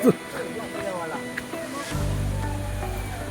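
Small streams of water spill down at Prabalgad waterfall, first under a person talking, then swelling into a steady, close broadband rush that carries on to the end.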